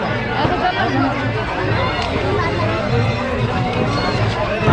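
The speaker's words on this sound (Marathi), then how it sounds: "आज मी तुम्हाला गर्दी दाखवतो हे बघा इथनं लाईन सुरू झाली आहे" Large crowd of devotees at the Sailani Baba Sandal festival in Pimpalgaon Sarai, Buldhana, a dense continuous babble of many voices and shuffling movement, steady and loud throughout with no single voice standing out.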